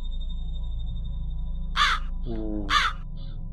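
A crow caws twice in the video game My Inner Demon, two short harsh calls about a second apart over a steady low game hum, with a brief voiced exclamation between them.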